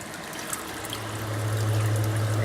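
A small hang-on-back filter on a sumpless 120-gallon reef tank trickles water steadily, a soft continuous splash with a low hum that swells slightly partway through, heard alone without talk.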